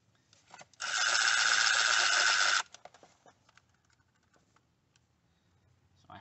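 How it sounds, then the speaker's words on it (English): A continuous whirring burst of a power tool, likely an impact or ratchet driver, runs for about two seconds while nuts come off the top of a BMW 335i N54 intake manifold, followed by quiet clinks and handling noises. "I'm just gonna go down the line and unbolt all of those nuts on top of the intake manifold."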